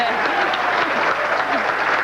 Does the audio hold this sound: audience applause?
yes